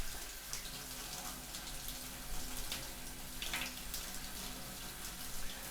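A shower in a survival video game runs in a steady, even hiss of falling water, constant and moderately close throughout.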